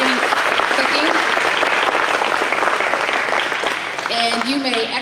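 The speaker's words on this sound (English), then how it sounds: "all of you step forward and get applause for your outstanding exhibitors in beginning cooking" An audience at a 4-H style revue and awards program claps loudly and steadily for beginning-cooking exhibitors, with a voice briefly heard over the applause near the end.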